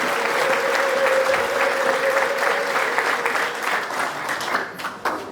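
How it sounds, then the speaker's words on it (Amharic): A church congregation bursts into loud, sustained clapping with a steady high ululating tone running through it, which fades toward the end. "ለእግዚአብሔር እስቲ ጭብጨባና እልልታን አድርጉለት"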